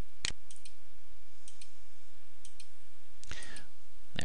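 Mouse clicks in chart window software for a dataTaker DT500 logger, a few sharp isolated clicks spaced about a second apart, close and clear against a quiet background with no talking.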